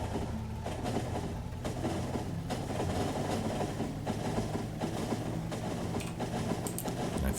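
Trains roll along rails in the video game Factorio, a dense, continuous rumble with rhythmic clacking and occasional clicks, steady and close, no talk.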